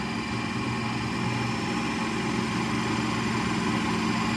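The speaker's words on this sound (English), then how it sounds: "So basically the paddle wheel is trying to shave the ice and create ice cream." Ninja Creami Deluxe ice cream maker running as its paddle shaves frozen ice, a loud continuous motor whir and grinding hum with no pauses.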